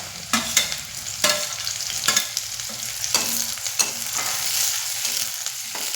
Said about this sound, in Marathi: मिरची पण तळून घेते आणि शेंगदाणा पण टाकते जरा